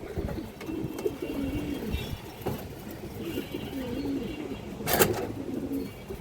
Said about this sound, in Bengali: এই যে দেখেন রানিং উড়ানো কবুতর দর্শক।